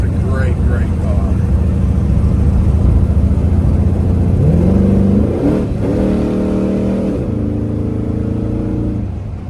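A 1956 Chevrolet Bel Air custom with an LS engine and Hilborn fuel injection revs loudly up close at about a third throttle, then settles back toward idle as someone talks over it.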